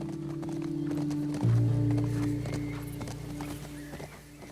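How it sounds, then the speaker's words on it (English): A horse gallops in a Naughty Dog video game, its steady rhythmic hoofbeats sounding close and clear over a sustained low musical drone. "We can now hold L1 to gallop our horse back to camp."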